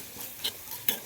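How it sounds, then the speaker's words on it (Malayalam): Turmeric powder being sautéed in a pan for a thick mackerel curry, a faint soft hiss with two brief scraping stirs of the spoon, close and quiet, with no voices. "മഞ്ഞൾപ്പൊടിയും കൂടെ ചേർത്ത് നന്നായി വഴറ്റിയെടുക്കാം."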